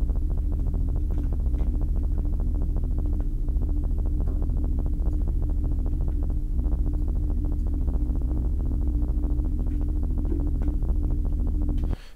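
A refrigerator's drone, time-stretched into a steady, dense low hum with layered tonal partials that holds evenly throughout and cuts off abruptly at the end.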